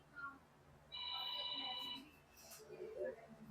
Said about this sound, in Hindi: टेलीफोन आया, टेलीफोन